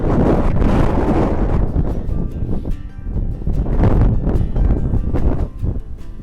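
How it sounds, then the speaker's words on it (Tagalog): Strong gusts buffet the microphone on a small farm, producing loud, continuous rumbling roar that swells and dips throughout, with no clear talk. "malakas ang hangin dito"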